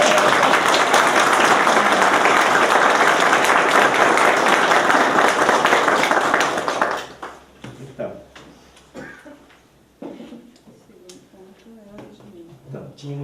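An assembly of members applauds loudly and steadily for about seven seconds to approve a proposal, then the clapping stops abruptly and people talk in the room amid scattered knocks.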